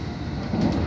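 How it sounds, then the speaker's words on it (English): A low rumbling London Underground Hammersmith and City line train, steady and fairly loud, with a slight rise in clatter toward the end of the short stretch. "Is a Hammersmith and City line train terminating at Wood Lane"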